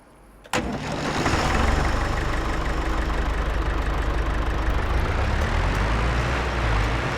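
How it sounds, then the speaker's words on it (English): A 50 hp John Deere tractor engine in Farming Simulator 25 cranks with a sharp start, then settles into a loud, steady mid-pitched idle rumble, close and unbroken. "let's see if our little 50 horsepower John Deere can pull that trailer"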